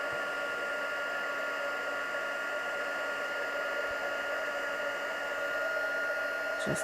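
A heat tool blows a steady, even whirring hiss throughout while heat-setting embossing powder for rubber stamping, close and continuous with no talk.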